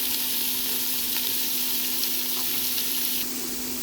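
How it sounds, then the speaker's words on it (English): Broccoli, zucchini, capsicum and green beans fry in a pan with a steady, close sizzle throughout, a constant crackling hiss with a faint tonal hum underneath and no talking. "Let's fry for about 3 minutes."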